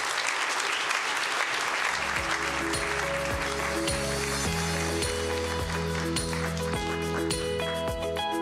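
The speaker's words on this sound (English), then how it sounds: "Please give them collectively a round of applause." Sustained audience applause fills a large hall at the Clinton Global Initiative 2024 Annual Meeting, a dense steady clapping that carries on throughout while musical tones rise underneath.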